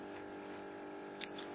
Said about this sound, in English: So you're going to cut off the top section